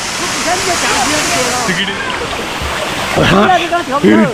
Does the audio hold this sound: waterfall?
yes